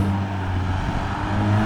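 A car drifting nearby, a steady engine drone holding at high revs with a constant rumbling tone and no voices, continuous and moderately loud.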